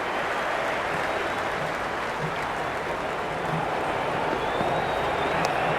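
A large cricket crowd at a Sydney Sixers versus Melbourne Stars match roars and applauds in a dense, steady wash of cheering that holds throughout without letting up.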